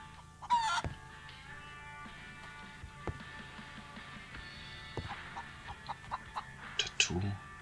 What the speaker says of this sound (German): Ein Huhn.